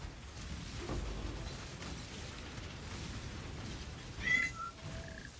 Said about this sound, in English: the cat is playing with the rubber band